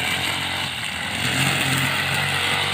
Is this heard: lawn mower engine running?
yes